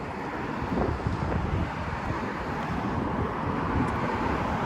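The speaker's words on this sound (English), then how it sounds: "That was the wind, eh?" Wind buffeting a phone microphone outdoors, a loud continuous low rumbling roar with slight gusting surges and no other sounds over it.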